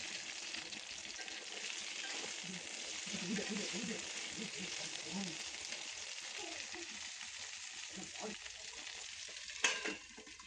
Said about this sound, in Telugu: ఒక కడాయి తీసుకొని వన్ టేబుల్ స్పూన్స్ ఆయిల్ వేసుకొని బెండకాయని వేసుకోవాలి